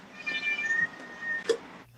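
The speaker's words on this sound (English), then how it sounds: "You're even making the cats meow." A cat meows twice in quick succession, fairly close and clear, with a sharper, higher cry at the end and no talking over it.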